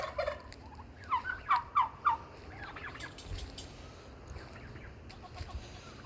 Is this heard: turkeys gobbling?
yes